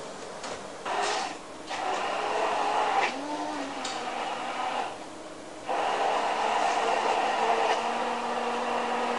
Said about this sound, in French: mixer les framboises